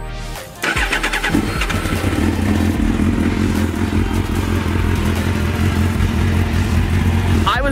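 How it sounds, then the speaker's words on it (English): A 17-year-old race motorcycle of unknown mileage, not run for a few days, cranks briefly and then fires up, settling into a loud, steady, throbbing idle close by. "For this bike being 17 years old with unknown miles, and as a race bike, it starts beautifully."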